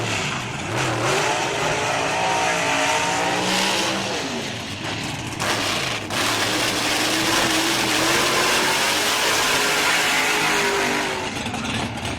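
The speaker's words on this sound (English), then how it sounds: "Clearing the throttle, you can hear him zip." Drag race car engine with a 13.5-liter displacement clearing the throttle, sharp revving blips that rise and fall repeatedly, loud and raspy, with crowd and track noise behind.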